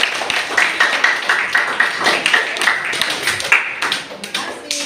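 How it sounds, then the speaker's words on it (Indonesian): Schoolchildren in a classroom clapping together, a dense run of fairly close claps with an uneven rhythm that carries on for about five seconds. "tepuk tangan."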